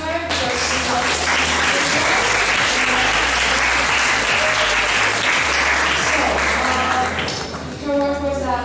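An audience at a European Erasmus+ programme event breaks into sustained applause, a thick, even wash of clapping lasting several seconds before tapering, with music or a voice faintly present underneath.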